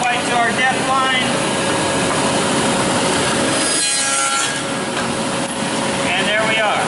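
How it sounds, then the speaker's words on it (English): Table saw cutting a 3/4-inch-wide, 3/8-inch-deep dado across the grain of a wood board, a loud steady whine and rasp of the blade through wood that holds for the whole stretch, dipping briefly midway, with some voice faintly under it. "Okay, so I just demonstrated the dado going across grain."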